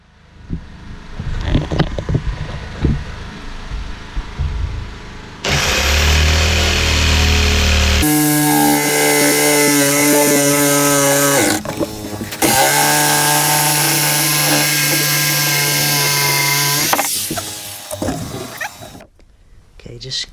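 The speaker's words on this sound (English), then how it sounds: "I'm just going to cut this into a more pleasing shape" A power tool cuts a wooden work surface into a curved shape in an off-grid roundhouse, running in loud sustained bursts with steady whining tones, a short pause midway, and wind noise near the start.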